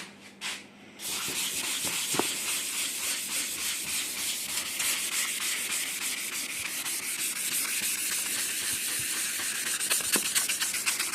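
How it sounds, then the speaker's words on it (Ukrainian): Steady, rhythmic scrubbing of a green abrasive sponge across a surface being prepared for painting, a continuous hissy rubbing with quick back-and-forth strokes, close and alone. "Зеленою губкою ковакс я розшліфовую десь отаку зону."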